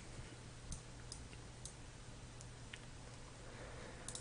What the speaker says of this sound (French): Vous allez entendre surtout la souris et le clavier